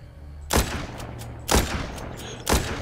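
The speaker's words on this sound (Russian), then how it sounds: "Вот это прям хорошие такие выстрелы." Gunshots in the video game The Walking Zombie 2 ring out as three sharp, loud single shots spaced about a second apart, each with a short rumbling decay.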